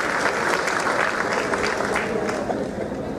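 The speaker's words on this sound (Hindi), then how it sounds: "हमने तालियां बजाकर इनका इस आयोजन के लिए स्वागत करें।" An audience at a banana and turmeric festival in Burhanpur claps to welcome the organisers, and the thick, continuous applause stays loud throughout with a few sharper individual claps standing out.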